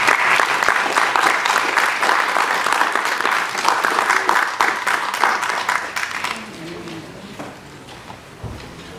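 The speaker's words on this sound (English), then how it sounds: "everybody give Mr. Daugherty another round of applause" Audience applause fills a college chapel, loud dense clapping from a crowd that holds steady for about six seconds, then thins out and fades to scattered claps.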